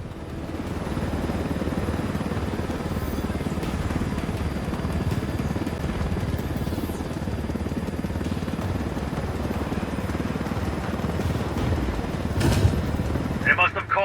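A helicopter in the video game Ghost Recon Wildlands, a stolen uranium-loaded aircraft, gives a steady, loud rotor and engine roar that fills the whole stretch with little change, a brief sharper burst near the end.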